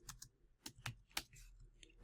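Keys clack on a computer keyboard as a short folder name is typed, a quick, close run of separate crisp clicks with brief gaps and no talking.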